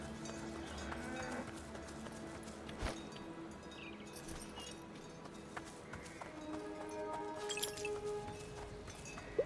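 Cattle in the Dungeons of Hinterberg video game moo and shuffle amid a busy layer of game sounds and music, the lowing mid-level rather than close or isolated.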